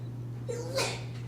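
A single person sneezes during a university business lecture on innovation: one brief, fairly faint sneeze with a short rising intake just before the burst, heard against quiet room hum.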